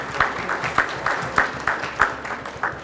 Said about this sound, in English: And an applause, everyone.